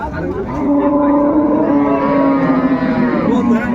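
A cow at a village haat cattle market selling Sahiwal, Sindhi and local dairy cows gives one long, loud, close moo that carries for several seconds over faint background noise.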